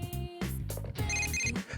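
A phone rings in a video game, a bright electronic ringtone of a few repeating melodic tones with short gaps between them. It sounds fairly loud and clean, with no talking over it.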